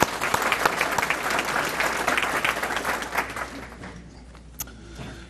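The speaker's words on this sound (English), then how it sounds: "Another little round of applause for them." An audience at a Morganton Citizens of the Year ceremony gives a warm round of applause for city staff, a steady crowd clapping that swells then tapers off near the end, with a few stray claps trailing.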